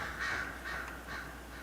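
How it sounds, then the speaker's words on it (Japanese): Leliana's crow in Dragon Age: Inquisition gives three clear, evenly spaced caws, close and moderately loud against a quiet game backdrop. "またレリアナさんのカラスがいますね。"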